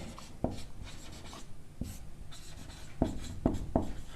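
A pen writes on paper in close, soft scratching strokes, with several short bursts and small taps between them. No one speaks.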